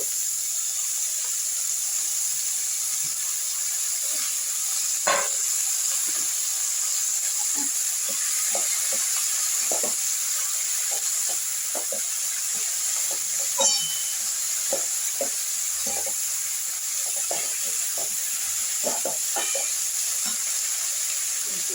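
Chopped potato, eggplant and a little green chili fry in plenty of oil, giving a continuous bright sizzle with scattered small pops and occasional stirring clicks, close and steady for the whole stretch.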